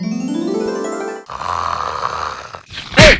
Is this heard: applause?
no